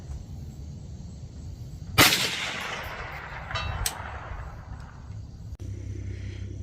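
A single sharp, loud rifle shot from a Bear Creek Arsenal 20-inch stainless .22 WMR upper at an outdoor range, with a rolling echo trailing off over steady wind noise.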